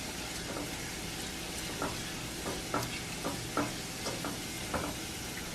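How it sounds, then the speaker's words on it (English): Pasteles mixture being stirred in a pot on a stove with the flame just turned off, a faint steady scraping with soft irregular taps of the spoon against the pot, close and quiet with no talk. "But I'm going to stay stirring."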